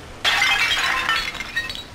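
A porcelain tea service in the style of Louis XV smashes in the video game BioShock 2, a single bright shattering crash of breaking china followed by tinkling shards.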